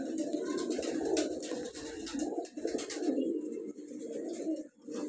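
Golden Chapray pigeons kept for sale in Lahore coo repeatedly nearby, low soft rolling calls overlapping one another in an uneven rhythm, with faint chirps mixed in.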